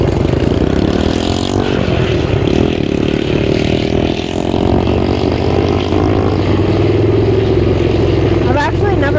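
A motorcycle rides up a road with a steady, fairly loud engine drone and wind rumble throughout, while a rider talks over it.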